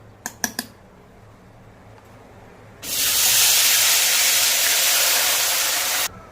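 Ground spice paste poured into plenty of hot oil for a Tamil medicinal kuzhambu, bursting into a loud, steady broadband sizzle that holds for about three seconds, after a few sharp clicks and a quiet pause.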